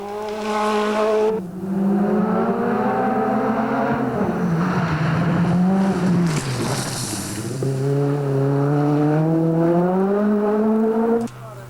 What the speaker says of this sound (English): As the cars headed into the rally's longest special stage